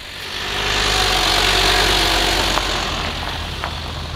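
A pickup truck engine runs after its exhaust has fallen off, at a French drift championship event: a loud, rough, steady rumble heard up close, with no talking.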